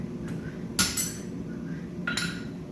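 Hammer blows on a steel drift in the eye of a hand-forged tomahawk: two bright metallic clanks, one a quick double strike, ringing over a steady low background hum, with no voices.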